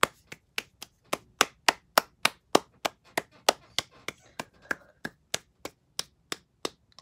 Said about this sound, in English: Let's give a round of applause for Mr. Bradley for getting us out of that school while there was a fire.